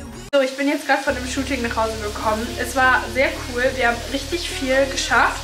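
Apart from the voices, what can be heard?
chicken frying in a pan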